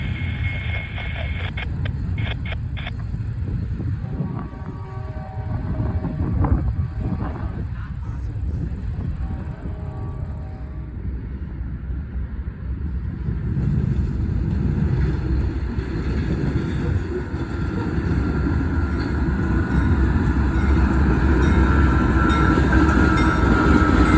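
A CSX I-137 double-stack intermodal freight train rolls past, a steady loud rumble of wheels and wagons with rhythmic clickety-clack and a high squeal early on, continuing without pause for the whole stretch.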